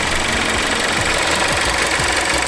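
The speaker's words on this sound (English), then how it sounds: "Engine sounds good." A used car's engine idles steadily up close under an open bonnet, a dense continuous rumble with faint rhythmic low thumps and no voices.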